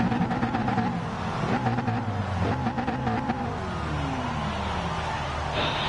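A Nissan GT-R in the racing game GT Sport, engine revving hard through repeated upshifts with rising and falling pitch sweeps, loud and continuous with no talk.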